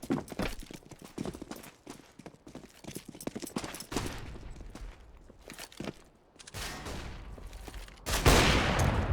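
Rapid pistol gunfire in Counter-Strike on the Train map during a professional esports match, with close, sharp shots in quick irregular bursts, overlapping footsteps and a louder burst near the end.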